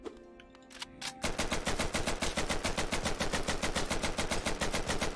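Rapid, evenly spaced machine-gun-style shots from modded guns in Hollow Knight Randomizer, starting abruptly after a quiet moment and continuing loudly in a fast steady rhythm.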